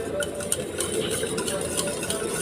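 A steady, soft scraping and swishing of a utensil stirring thick pandan custard in a pot set over boiling water, continuous and close, with faint hiss underneath.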